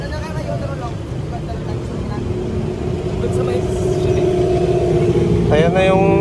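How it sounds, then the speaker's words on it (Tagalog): A motorized tricycle's engine hums and rumbles steadily near a bus stop, growing louder over the clip, with voices and background bustle around it. "Ayan na yung sinakyan naming tricycle."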